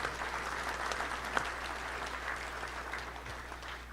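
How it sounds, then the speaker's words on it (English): Distant crowd applause at a touchdown club event, a dense wash of clapping at low volume, steady throughout with a low hum underneath. "Let's give a big round of applause to everybody."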